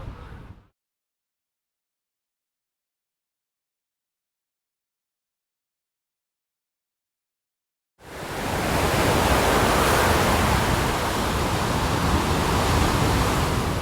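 After a brief burst and a long silence, a broad, steady roar of Atlantic Ocean surf on the Portuguese coast rises and fills the rest, loud and continuous.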